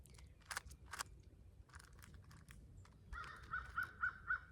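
Crows cawing outdoors in a natural setting, a few scattered harsh calls early on, then a run of four quick caws near the end, over a quiet background.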